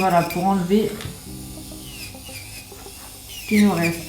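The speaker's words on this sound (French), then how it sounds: "je vais mettre un dernier petit coup de ponceuse" An electric nail sander grinds gel polish off a fingernail, producing a steady whirring buzz with light scraping. Someone talks over the start and end of it, and the whir stays close and moderately loud.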